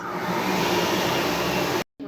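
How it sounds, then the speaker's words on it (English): A steady, loud blowing roar of a hand dryer running continuously, then cutting off abruptly near the end before a faint restart. "We put the tote bags into hand dryer"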